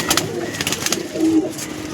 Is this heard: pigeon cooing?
yes